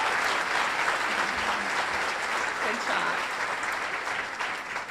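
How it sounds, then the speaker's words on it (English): Full round of applause from guests at a ranch membership luncheon, steady and close, with a brief spoken remark heard over the clapping. "how about a big round of applause for all those people?"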